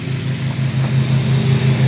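1966 Kenworth K100 cabover with a Detroit diesel engine runs on open headers, a loud, close, rough droning rumble with a steady pulsing throb.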